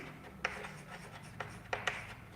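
Pen on paper while writing out a linear programming boundary line equation: a few quiet, short scratching strokes and taps at irregular intervals, faint and close, with no clear talking.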